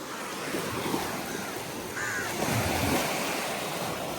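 Kaveri river water, an outdoor stretch of broad rushing and splashing like surf with wind noise on the microphone, while crows caw over the top.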